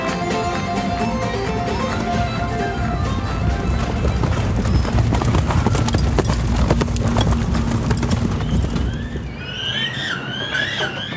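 Many hooves clip-clop steadily at the Puy du Fou stable, home to 170 horses, a dense, continuous patter over a low rumble, ending with a horse's high whinny.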